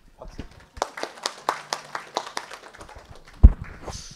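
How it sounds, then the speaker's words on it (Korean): A small class clapping to welcome one another in a lecture room, a sparse run of distinct claps in an uneven rhythm, fairly close, ending with one loud thump and a brief faint voice. "우리 처음이니까 우리 어색하죠 얼굴 크게 박수로 서로 환영 한번 해줍시다."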